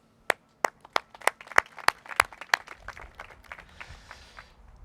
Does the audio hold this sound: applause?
yes